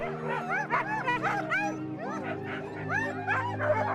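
Tired sled dogs back at camp after a World Championship sled dog race at Åsarna, barking, yipping and whimpering in a dense overlapping chorus, several dogs close by, with a steady low hum underneath.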